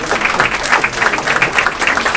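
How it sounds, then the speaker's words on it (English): A crowd claps for a race runner who took first place in South Miami, a dense, loud burst of applause that stays steady throughout. "Let's give him a round of applause."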